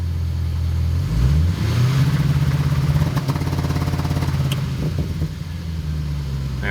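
A 2012 Chevrolet Caprice PPV with a 6.0L V8 rises in revs and then holds steady around 2000 rpm against an MSD 2-step limiter. The rumble is loud and close and runs throughout.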